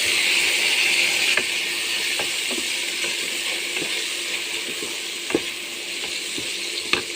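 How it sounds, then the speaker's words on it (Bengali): Slit green chilies hit hot oil in a pan with prawns, giving a loud, steady close-up sizzle with occasional stirring clicks and scrapes throughout. "এবার দিয়ে দেবো কাঁচা লঙ্কা চিরা।"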